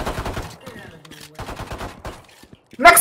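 Rapid bursts of gunfire from a tactical shooter video game crackle between excited players shouting commands, with a loud final volley at the end.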